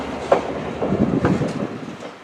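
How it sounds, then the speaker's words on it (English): Heritage train rolling past at a railway museum depot in Campo, California, with a clickety-clack of wheels over rail joints and rumbling carriages at moderate distance. "And here's the train."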